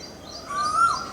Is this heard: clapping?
no